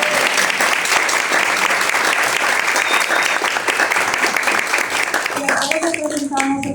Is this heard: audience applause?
yes